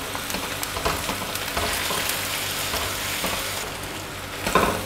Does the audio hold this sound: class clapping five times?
no